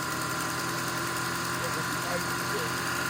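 A 2004 Ford Mustang engine idles with a steady rumble and a suspected failing motor mount, loud and constant up close, while people talk over it.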